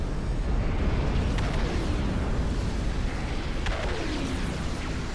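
Weapons fire and explosions roll on in the real-time strategy game Ashes of the Singularity, a steady dense rumble of distant blasts and bursts with a few sharper shots cutting through, and no talking.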